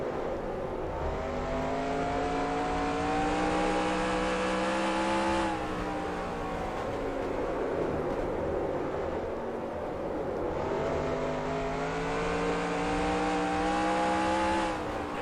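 Race car engines roar on the Five Flags Speedway track in NASCAR Racing 2003, a loud continuous engine drone whose pitch climbs through gear shifts in two long repeating acceleration sweeps, with no talking.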